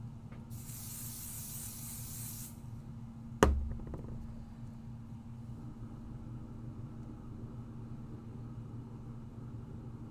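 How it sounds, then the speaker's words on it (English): A can of pixie spray hisses steadily for about two seconds, followed by a sharp knock against a background hum. "So now let's put a little pixie spray on here."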